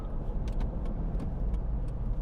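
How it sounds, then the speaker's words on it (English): Road traffic rumbling around a moving car, heard from inside the cabin as a steady low drone with a few faint light clicks on top. "I got traffic all around me right now"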